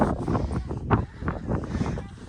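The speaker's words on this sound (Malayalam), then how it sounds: "നല്ല കാറ്റാണ്." Strong, freezing wind at Jungfraujoch, Switzerland, buffeting the microphone in heavy, low rumbling gusts, loud and close, with no clear talking.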